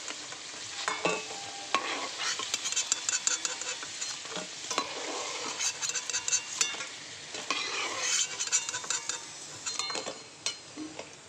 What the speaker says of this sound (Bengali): বাকিগুলো এরকম ভেজে নেবো একইভাবে